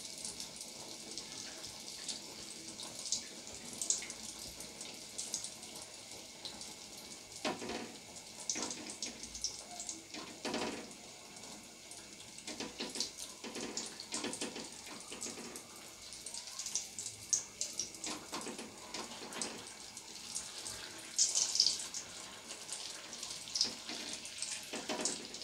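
Malpua batter frying in hot oil, with a spatula splashing oil over it, giving a steady, close sizzle with scattered crackling bursts and no talking.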